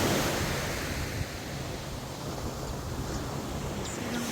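Steady surf rolls and washes onto the beach at Gili Air, a continuous roar of breaking waves mixed with wind buffeting the microphone, with no voices.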